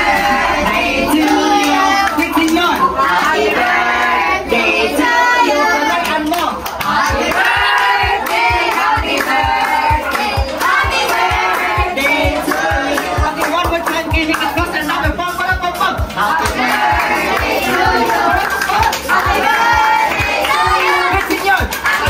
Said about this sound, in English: clap your hands and sing